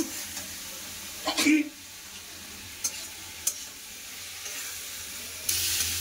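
Chopped tomatoes, salt and spices fry in a pan for a Bengali fish curry, giving a faint, steady low sizzle with a few sharp stirring clacks and a louder burst of frying near the end.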